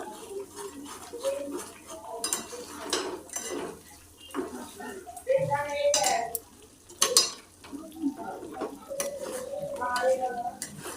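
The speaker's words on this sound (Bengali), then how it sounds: "মশলাটা অনবরত এভাবে নেড়ে যেতে হবে তা নাহলে তলায় ধরে যেতে পারে" A spoon stirs and scrapes a sizzling cumin and coriander masala in oil in a pan, making irregular clinks and scrapes against the metal over a soft frying hiss, with a quiet voice now and then.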